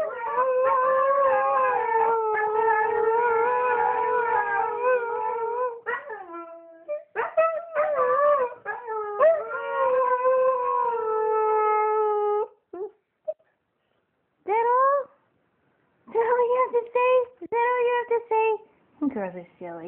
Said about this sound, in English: Do you think they know how to howl?